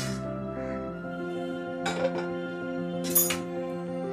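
Dishes and utensils clink as roasted ingredients for Mumbai-style mutton kheema are moved onto a plate in a kitchen, with a few distinct metallic chinks over a steady background hum.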